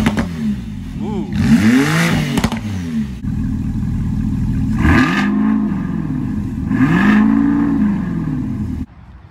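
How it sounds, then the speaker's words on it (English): Porsche 911 and Camaro ZL1 exhausts revving in turn, with several loud, close throttle blips that rise and fall against a steady idle rumble. "Let's compare exhaust sounds."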